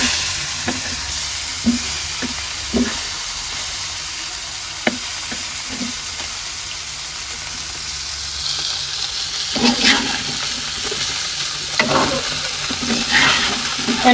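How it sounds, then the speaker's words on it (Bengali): Vegetable curry with spices sizzles steadily in a hot pan while a utensil scrapes and stirs at intervals, close and continuous, with no talking. "মশলা এই নিরামিষের তরকারিগুলো সব সুন্দর করে কষাইয়ে নেই আগে"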